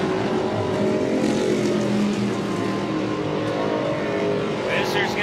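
Super stock trucks racing on the Crandon dirt track, a continuous loud engine roar with revving and passing swells, accompanied by talk over the top throughout.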